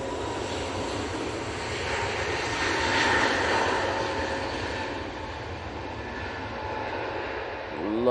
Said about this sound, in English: Lovely flex in this Dreamliner.